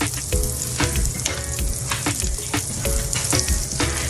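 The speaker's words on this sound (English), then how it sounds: "So I'm gonna keep some oil and put a little oil in my pan" Oil sizzles and spits in a hot pan, with a constant frying hiss broken by repeated sharp crackles and pops at an uneven rhythm, close and fairly loud.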